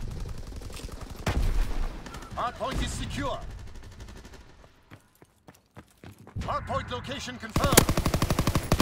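Gunfire in Call of Duty: WW2 during a ranked hardpoint match: rapid automatic bursts, loud and close, with a quieter gap midway before firing resumes, voices chattering under the shots.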